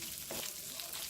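Dry onion flakes stirred into a sizzling pan for egg roll in a bowl, a faint steady frying hiss with a soft scrape of stirring, close and quiet.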